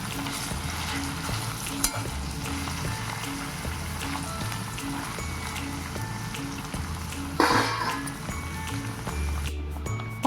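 Paneer pieces frying in a pan for a paneer curry, with a steady close sizzle, a few sharp clicks and a louder scrape of stirring near the end, no talking.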